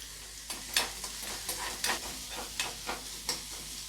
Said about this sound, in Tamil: இப்போ இதை நல்லா ஃப்ரை பண்ணிக்கோங்க இந்த ஸ்டேஜில் தேவையான அளவுக்கு கருவேப்பிலை சேர்த்துக்கலாம்